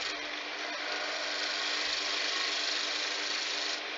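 A wood candlestick spins on a lathe while a roughing gouge cuts it, producing a steady, fairly quiet hiss and whir that runs unbroken throughout.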